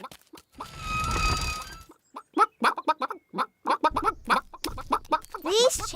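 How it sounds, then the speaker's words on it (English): Cartoon chickens in a fenced farmyard cluck in short, rapid bursts and bright squawks, several birds close by, following a brief hissing rush at the start; no speech. "These chickens don't look dangerous."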